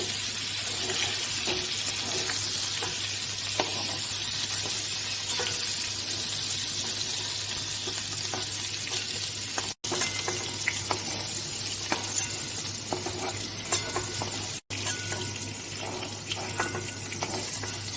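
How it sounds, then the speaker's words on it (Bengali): Prawns frying in hot oil in a home kitchen, with jackfruit frying alongside: a steady, moderate sizzle running without a break, under a low constant hum, with two brief dropouts. "আমি এবার চিংড়ি মাছগুলো ভেজে নেব"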